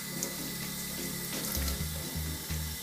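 Tap water runs steadily into a sink while a part of a Jura Giga X7 coffee machine is rinsed under it, a close continuous splashing stream with shifting gurgles as the piece moves.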